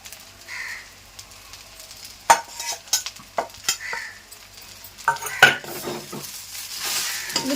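Gongura leaves and dried tamarind fried in a pan for a pickle, with a spoon scraping and stirring in sharp clinks and knocks over a soft, steady sizzle, close by and with no talking.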